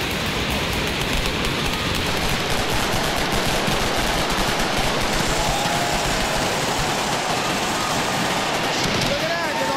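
Fireworks going off in a dense, continuous crackle of rapid pops and bangs, loud and sustained throughout, with a voice faintly underneath.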